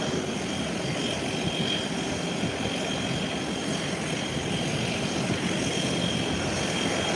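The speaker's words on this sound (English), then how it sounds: "here's the Cessna" A Cessna light propeller aircraft drones steadily with its engine running at low power near the taxiway, a constant, even buzzing hum with no talk over it.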